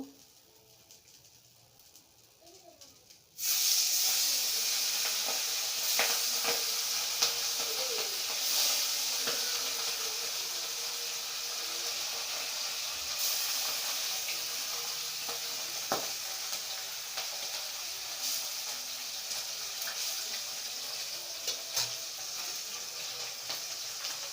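Pabda fish frying in hot oil in a home kitchen, a steady loud sizzle that kicks in abruptly after a quiet start and holds on with occasional crackles and pops.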